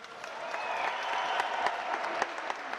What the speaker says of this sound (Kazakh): қол шапалақтап қойық